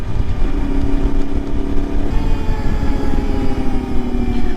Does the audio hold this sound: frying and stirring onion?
no